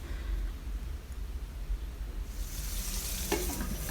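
Steady sizzling of chicken frying in hot oil in a pot, a constant hiss that grows louder and brighter partway through, with faint stirring clatter.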